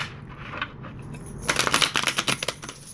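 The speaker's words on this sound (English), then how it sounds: "I'm only going to shuffle one more time and cut" A deck of tarot cards being shuffled and cut, a quiet riffle at first, then a louder run of crisp, rapid flutters and snaps close by, with no talking.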